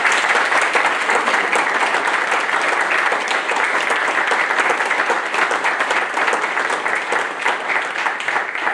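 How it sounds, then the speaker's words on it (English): Sustained, dense applause from families and friends at a Navy Nuclear Field A School graduation honoring new third-class petty officers, loud and steady throughout with no voices over it. "Families and friends, please join me in a round of applause for the Navy's newest third-class petty officers."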